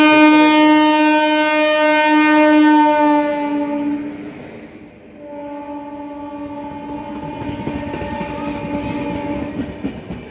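An Indian Railways special train from Darbhanga to New Delhi sounds a long, loud horn, then rumbles and clatters along the rails as it rolls into Anand Vihar station, the horn returning faintly under the noise.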